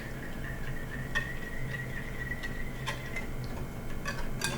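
Pancake batter being mixed with apple butter in a bowl, a quiet run of light, irregular ticking and tapping from the utensil against the bowl, close and soft with no talk.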